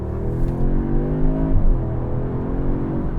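A 2025 Audi S3 engine rumbles and revs through an upgraded aftermarket exhaust, a loud close droning tone that dips and swells around a brief throttle blip midway, with no voices.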